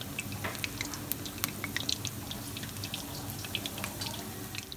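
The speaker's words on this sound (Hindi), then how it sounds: "गर्म ऑयल में एक एक करके तमाम पोटैटो बॉल्स हम डाल देंगे।" Potato balls frying in hot oil over a low flame, a continuous dense crackle and sizzle with scattered sharp pops throughout, steady and fairly close, with no talk.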